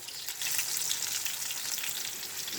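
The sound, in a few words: frying dried fish (daing) in a pan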